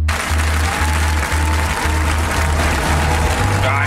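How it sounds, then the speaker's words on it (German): Studio audience on a German game show cheering and applauding, a loud dense roar of clapping and shouting that fills the whole stretch, with a low steady drone beneath it. "hört einfach mal zu, wie krass das Publikum mit Stefan Raab mitjubelt"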